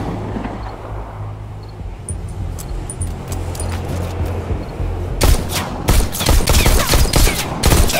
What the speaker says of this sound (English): Now, try to shoot the targets as they appear.